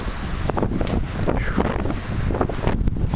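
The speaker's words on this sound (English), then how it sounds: "And the wind is brutal." Hard, cold wind buffeting an outdoor microphone near a flag in Goshen, Ohio, a loud continuous roaring rumble with gusting surges and flapping bursts throughout, with no talking.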